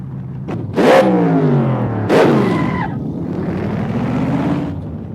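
A turbocharged car accelerates hard, its engine note rising in two strong revving pulls with gear changes between them, then settling into a steadier drone as the car moves on; no talk is heard.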